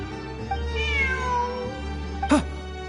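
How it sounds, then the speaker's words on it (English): Cat meowing in the Genshin Impact video game, a drawn-out meow followed later by a short, sharper meow over a steady background hum, fairly faint. "Look! A cat!"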